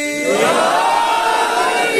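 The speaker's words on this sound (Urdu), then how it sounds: "پوری قوت اور توانائی کے ساتھ نعرے کا جواب دیجیے گا، دونوں ہاتھ بلند کر کے نعرہ حیدری" A large crowd roars a loud, sustained collective response to the Haidari slogan at a religious gathering for 21 Ramzan, Shab e Shahadat of Hazrat Ali, many voices rising together and holding steady.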